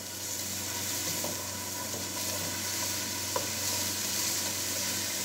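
Ginger and garlic sautéing in about two to three tablespoons of hot oil while a hot and sour vegetable soup is started; a steady, close crackling sizzle runs throughout, with a few faint stirring clinks.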